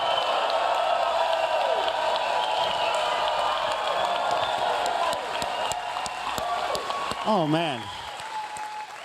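A TV studio audience in Texas applauds and cheers for a comedian, a loud steady wash of clapping with whoops, then someone briefly speaks as the applause fades.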